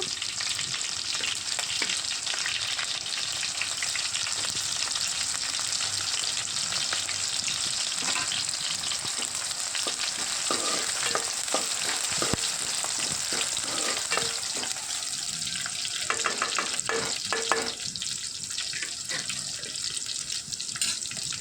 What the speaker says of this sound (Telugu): ఇక్కడ నేను ఆనియన్స్ అనేవి వేసుకుంటున్నాను